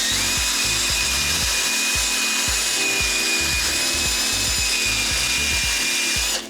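Power drill spinning a scrub brush against Jordan sneakers, steady high motor whine with rhythmic scrubbing bursts repeating about every half second, close and loud, stopping abruptly at the end.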